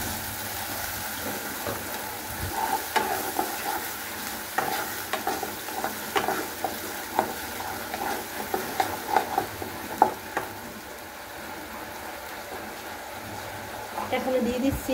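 Fried ginger-garlic spice paste in a pan sizzles steadily as a little water goes in, with scattered crackles and stirring scrapes over fifteen seconds, moderately loud and close, with brief speech mixed in.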